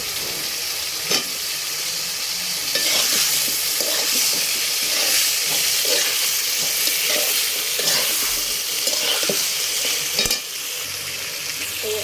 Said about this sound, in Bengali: এখন কাঁকরোল আর আলু দিয়ে কষাবো সুন্দর করে।